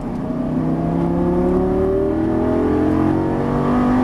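Lamborghini Gallardo LP550 accelerating out of a turn on a racing track, its engine note rising steadily in pitch as it pulls hard, loud and close, with no talk over it.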